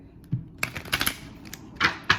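Tarot cards are shuffled in a few quick riffling bursts, close and fairly soft, with short pauses between them and no talking.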